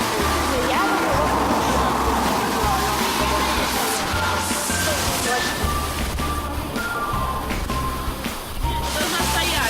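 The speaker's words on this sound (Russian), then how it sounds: "И мы сейчас опять же приехали на водопад." A small waterfall in Georgia, a steady splashing rush of water heard close by, with a voice talking over it throughout.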